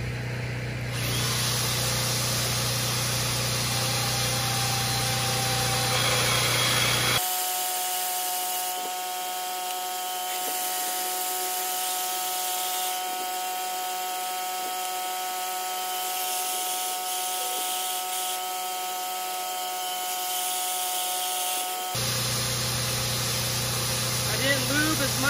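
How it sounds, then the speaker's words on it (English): A power drill bores out a hand-forged gun barrel, a steady whining tonal drone running for about fifteen seconds, set between stretches of a generator's loud hum. "start the drill and go"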